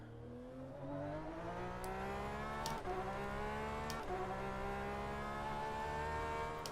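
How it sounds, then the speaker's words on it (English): A race car engine in the rFactor 2 racing game drones at steady high revs, its pitch climbing slightly, with brief sharp cut-outs as it bounces off the rev limiter. "when you hit the rev limiter, the sound just drops off."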